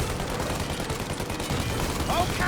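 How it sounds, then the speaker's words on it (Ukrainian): Rapid bursts of gunfire ring out while firing at an airplane in Mafia Definitive Edition, dense shots blending together over game noise and background sound. "Заткнись і дай мені стріляти."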